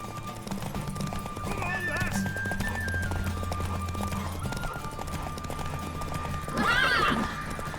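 Horse hooves clop and a horse whinnies loudly in the video game Witcher 3, with sharp neighs around the middle and the end, over a bed of game music and in-game voices talking.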